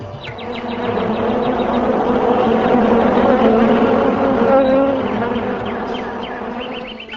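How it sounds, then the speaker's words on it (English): Swarm of bees gives a dense, steady buzzing drone that swells in, holds for several seconds and fades out, with light bird chirps at the edges. "birds like cuckoos and swarms of bees began chanting with sweet voices"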